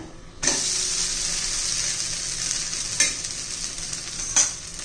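A garlic-greens pancake (aayte) sizzles steadily on a hot pan, a continuous close frying hiss broken by a few sharp scraping clicks of a utensil.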